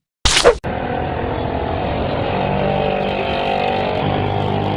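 A short sharp burst opens, then a new car's engine runs steadily underneath, a continuous moderate rumble that holds level throughout.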